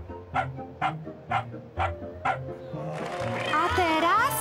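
A small dog barks five times in an even rhythm, then a burst of whining, yelping vocal noise rises near the end.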